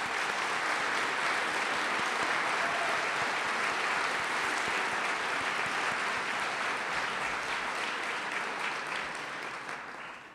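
A large audience applauds at a civic club event, a dense, continuous wash of many hands clapping at steady volume before tapering off slightly at the end.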